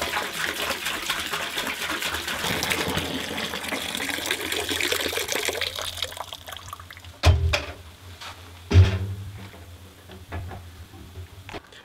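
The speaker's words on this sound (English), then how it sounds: "And then we pour that into the master barrel of ink." Ink pours into a master barrel in a steady, gushing stream for several seconds, then tapers off, followed by two dull knocks and quiet.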